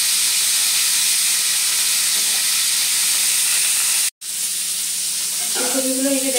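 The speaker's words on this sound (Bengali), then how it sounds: "ফুলকপিগুলোকে একটু হালকা লাল করে ভেজে নিয়ে" Cauliflower florets fry in hot oil with a steady, close sizzling hiss that runs throughout. The sound drops out for a moment, then resumes with some faint clinks near the end.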